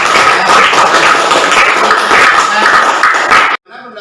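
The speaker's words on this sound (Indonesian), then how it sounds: "kita tepuk tangan dulu." A school class claps together in a dense, even burst of applause lasting a few seconds, then stops abruptly.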